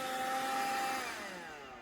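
A Kärcher WV 2 Plus window vacuum cleaner runs with a continuous high whine and airy hiss, its pitch slowly sliding downward as the motor winds down, fairly close with no talking.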